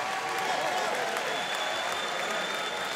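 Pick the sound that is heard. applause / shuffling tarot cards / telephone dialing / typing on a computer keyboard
applause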